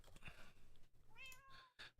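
A pet kitten named Dusty gives one drawn-out, rising and falling meow with a couple of short chirps around it, close by and clear, with no talking.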